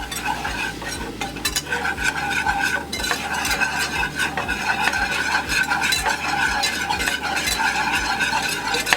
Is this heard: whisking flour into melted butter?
yes